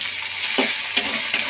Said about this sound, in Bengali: এখানেও আলু পেঁয়াজটা ভাজা হচ্ছে।